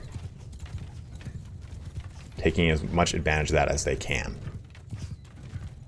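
Horse archer cavalry hooves from a Bannerlord battle, a steady clip-clop of galloping horses running beneath someone talking over the game action.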